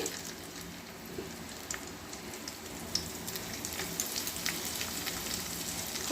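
Chopped garlic frying in white oil in a kadai: a dense, even hiss of sizzling oil with faint crackles, steady and close, no voices.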